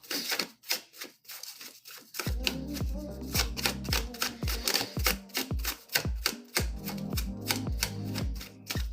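Dramatic cards shuffled by hand close up, a run of quick crisp riffling bursts and snaps over a low background bed, steady and fairly prominent, with no talking.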